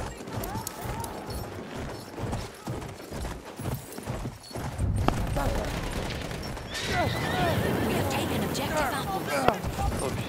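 Horse whinnies and galloping hooves in the Battlefield 1 video game's desert conquest mode, mixed with gunfire, explosions and battle noise, while players talk over the action.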